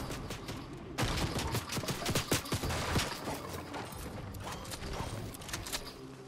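Gunshots in the Fortnite video game, a rapid run of sharp cracks and bursts in irregular clusters, loud and close, with mechanical clicks between volleys and almost no talking.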